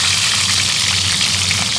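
Rat meat frying in a pan outdoors in an open field, a loud, dense, steady sizzle with a faint low hum beneath it.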